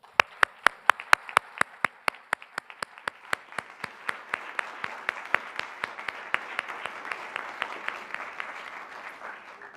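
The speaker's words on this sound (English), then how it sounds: "Please join me in one heartfelt round of applause for our Educators of the Year." A room of attendees at an Educator of the Year ceremony gives a sustained round of applause, sharp individual claps ringing out close by over a swelling background patter lasting nearly ten seconds.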